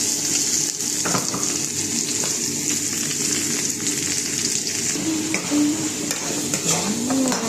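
Chilies and onions dropped into meat frying in a pan for dinakdakan, a loud, continuous close sizzle with occasional clinks and stirring sounds and no voices.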